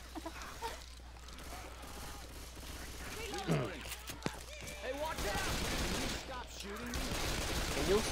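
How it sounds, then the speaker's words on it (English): Gunfire while shooting zombies in Left 4 Dead 2: scattered sharp shots early, then a dense, sustained volley of rapid fire, with a voice talking over parts of it. "there were zombies on you and I was trying to shoot them"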